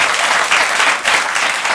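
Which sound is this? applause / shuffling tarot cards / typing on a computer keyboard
applause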